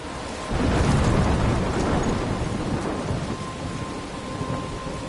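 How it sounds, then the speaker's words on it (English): Thunderstorm in the video game Life is Strange: a deep rolling thunder rumble swells over heavy steady rain, loud and continuous, with no voices. "I'm trapped in a storm?"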